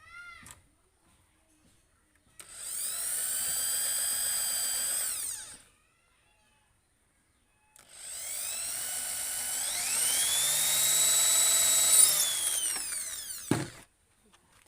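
A power drill drives a small screw into the trigger of a homemade fish-hunting gun, two sustained whining runs of a few seconds each with a pause between, the second rising in pitch and ending with a brief clunk.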